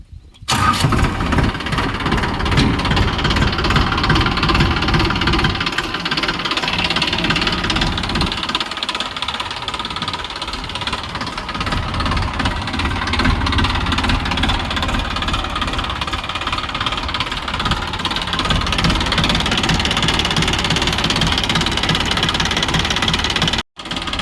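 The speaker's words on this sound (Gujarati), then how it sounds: "આપણે ટ્રેક્ટર ચાલુ કરીને તમને બતાવી દઈએ કે શું છે આપણે આનો અવાજ ને બધું એન્જિન" A New Holland 3230 tractor's diesel engine cranks and starts, then keeps running with a steady, loud, throbbing idle and knocking close by.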